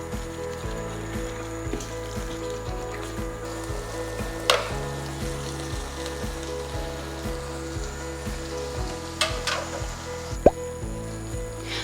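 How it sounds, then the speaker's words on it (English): Tteokbokki sizzles steadily while stir-frying in a hot pan, with soft stirring scrapes and occasional sharp clicks of a utensil against the pan. "I've been stir frying this for almost 7 minutes"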